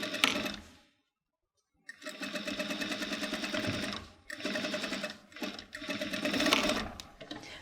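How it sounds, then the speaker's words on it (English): A sewing machine runs bursts of fast stitching along the top of a denim jeans waistband, set to its widest stitch length, near and steady, with a short pause of silence between runs. "I'm going to stitch the top of the waistband"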